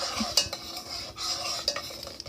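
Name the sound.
stirring elderberry syrup herbs with a spoon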